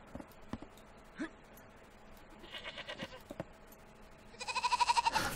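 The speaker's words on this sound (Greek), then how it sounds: "Πήραμε και την κατσίκα." Goat bleats in the Wartile strategy game, first faint and scattered, then a loud, rapid run of bleating pulses near the end over low background game ambience.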